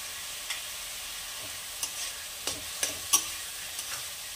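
Chopped garlic crackles softly in a pan under a low, even sizzle, punctuated by a few sharp clinks of a spoon stirring, close and quiet without speech.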